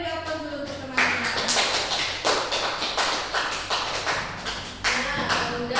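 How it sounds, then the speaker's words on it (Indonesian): Classroom applause from students, a burst of quick, uneven clapping and tapping that runs steadily for several seconds at moderate distance, without talk over it. "Beri aplaus dulu untuk teman-teman."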